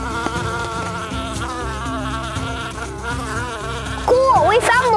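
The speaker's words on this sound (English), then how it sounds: "Like, a bumblebee. A lot of bumblebees." Bumblebees buzz around flowers by a river, a close, wavering hum that swells louder near the end, with no voices.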